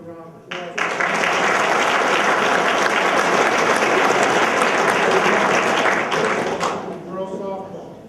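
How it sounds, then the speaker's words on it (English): A crowd at a high school spring sports awards night breaks into loud, steady applause for the All-Stars, swelling quickly, holding dense clapping for several seconds, then tapering off as a voice returns. "Give yourselves a round of applause."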